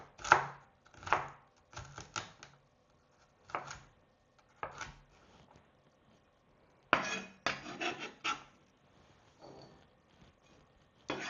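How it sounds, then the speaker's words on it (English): A knife chops celery on a cutting board into small pieces, with bursts of quick, crisp strokes separated by short pauses, close and clear with no talking. "So I like to take my celery and slice it down the middle a few times because I want it to be very small."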